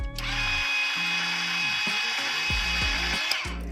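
A cutter turning a foam tire for a nitro RC touring car on a spinning tire truer: a loud, steady motor whine runs throughout, with the pitch dropping repeatedly as the cutter bites into the foam.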